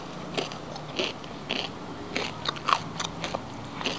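Crispy fried chicken thigh, cooked straight from frozen, bitten and chewed close up, giving a run of sharp crunchy crackles at irregular intervals, with no talk.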